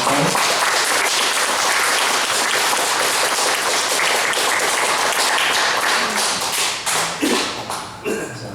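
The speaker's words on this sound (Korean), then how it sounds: "우리 찬양대에게 우리 격려의 박수, 감사의 박수." A Korean church congregation gives loud, sustained applause for its choir, a dense roar of hands that holds for several seconds, then thins into scattered claps and a few thuds as it fades.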